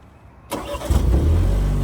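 A 2025 Morgan Plus 4 roadster's BMW turbo engine cranks via starter button and catches after a short silence, then settles into a loud, deep idle exhaust rumble close by.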